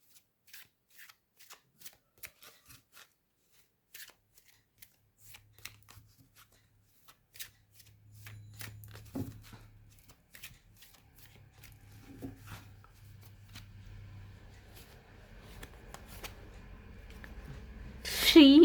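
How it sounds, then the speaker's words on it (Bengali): Oracle cards being shuffled by hand, with soft, sparse card flicks and slides at first, then denser riffling and shuffling that grows louder toward the end, with a low hum underneath. "বন্ধুরা, আমি ওরাকল কার্ড নিয়ে নেব একটা"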